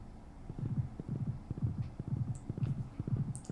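A horse's hooves clip-clop in the Stardew Valley video game, a soft, steady trotting rhythm of paired hoofbeats repeating evenly throughout, alone and fairly quiet.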